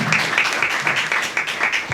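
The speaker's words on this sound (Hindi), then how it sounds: "आज भाई सब के लिए हम जोरदार ताली बजा करके एक बार फिर से स्वागत करेंगे" An audience claps at a Mahashivratri festival gathering at a Brahma Kumaris centre, with bright, close hand claps falling in a steady, regular rhythm and no pause.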